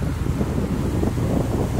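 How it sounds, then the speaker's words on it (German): Strong wind buffets the microphone aboard a yacht at sea off Dubai, a loud continuous roar of gusts with a low rumble and no pauses. "Ich hoffe, ihr hört mich mit dem Wind und so."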